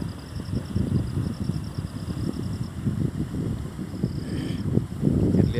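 A fresh early-morning breeze sweeps across green village fields around 7 o'clock, buffeting the microphone in uneven low gusts, with faint high tones in the background.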